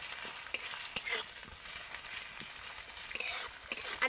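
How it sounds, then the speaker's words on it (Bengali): Onions frying with ginger-garlic paste for a koi fish curry, a steady close sizzle broken by occasional sharp clacks of a utensil stirring the pan, with no talking. "আদা রসুন বাটাটা দিয়েও কিন্তু আমি ভালো করে একটু পেঁয়াজের সাথে ভেজে নেব।"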